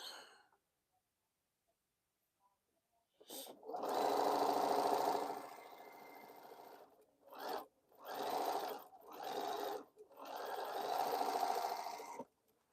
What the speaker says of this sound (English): let me sew this unit before I forget what I'm sewing